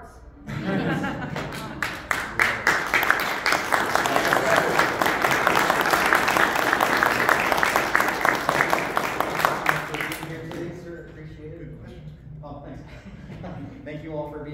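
Audience at a Star Wars Legends convention panel applauds for about ten seconds, dense steady clapping that swells then stops abruptly, followed by a quieter room with a voice speaking.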